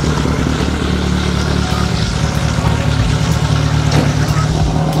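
Engine of a modified car fitted with a dog-engagement gearbox, warming up at idle: a steady, loud, close rumble with a constant low drone and a few faint clicks, running alone throughout.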